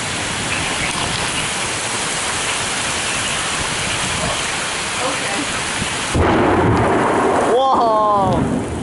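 A severe summer thunderstorm in Flat Rock, Michigan pours heavy rain in a dense, steady roar, with rumbling thunder building into a louder close crack near the end.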